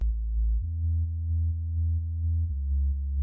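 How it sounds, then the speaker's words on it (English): Sub bass synth playing the root note in a progressive house drop: a deep, smooth sine-like hum that steps in pitch twice, pumping gently from sidechain, heard alone. "for the sub bass, I had it playing the old root note"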